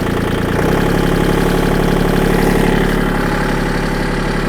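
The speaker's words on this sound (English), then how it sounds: "let's just back the tractor up to the implement and pick it up" A Kubota L2501 compact tractor's diesel engine runs loud and close with a steady, throbbing idle as the tractor backs up to a three-point hitch implement, and there is no talk.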